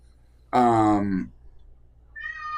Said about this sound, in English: So don't mind the cat.